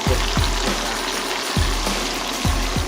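Onions and garlic frying in hot oil left over from frying fish, giving a steady, close sizzle with a few low thumps from stirring or handling and no talk.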